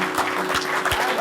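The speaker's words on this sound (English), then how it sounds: "Well done, round of applause." Brief applause for a maths teacher, Mr. Garvey, at a school, with a few irregular claps over a steady background hum and some low thumps, fairly close and moderate in level.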